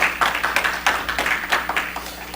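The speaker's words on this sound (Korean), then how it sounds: "박수로 환영하겠습니다" A church congregation claps in welcome during a Sunday worship service, with a steady patter of hand claps throughout, moderately close and fairly dense.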